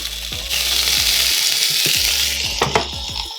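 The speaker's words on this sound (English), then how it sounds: "You hear that sizzle, folks?" Cheese sizzles on a hot grill with a steady bright hiss, broken by a few low knocks and clunks as the food is moved about, close and loud throughout.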